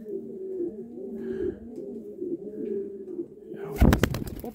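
Young male pigeon cooing in low, rolling repeated phrases close by, ending with a sudden flutter or clatter of wings.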